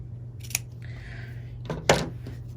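Scissors snip through quilt fabric in a few quick, quiet cuts, with a soft crisp shear near the end over a low room hum.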